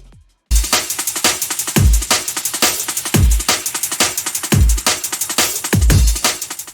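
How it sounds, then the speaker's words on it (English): A fast, punchy breakbeat drum loop kicks in after a brief silence, with booming kicks and crisp snares and hats driving a busy jungle rhythm. "The drum loop is a really nice jungle drum loop."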